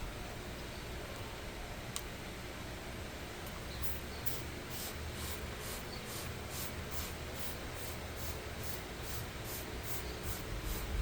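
Meguiar's foaming floor mat cleaner spritzed from a trigger sprayer onto a car floor mat, a quick run of regular, crisp hissing pumps that starts a few seconds in over a steady low background, with no one talking.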